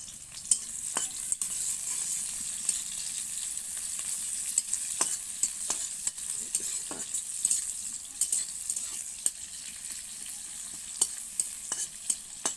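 Chopped onion frying in a pan gives a continuous hiss under sharp intermittent clicks and scrapes of a spoon stirring against the metal, fairly close and even throughout.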